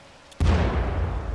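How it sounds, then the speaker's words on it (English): A grenade blast in the shooter Titanfall 2 hits abruptly and loud, a deep boom with a long rumbling tail that keeps going to the end. "Stay down, dude. Grenade."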